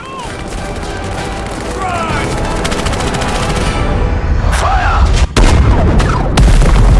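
Bursts of machine gun fire and booming explosions from a World War II strategy and base-building video game, dense and continuous, with sharp loud blasts near the end.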